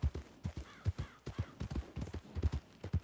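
A horse's hooves clip-clop in an even walking rhythm, close and distinct, as the horse moves through the open world of Red Dead Redemption 2.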